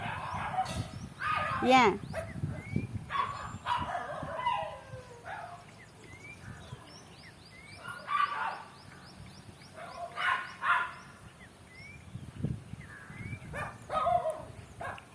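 Dogs at an animal shelter bark in repeated bursts at middle distance, mixed with yips and scattered calls, while people talk intermittently over them.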